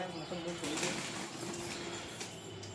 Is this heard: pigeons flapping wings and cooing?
yes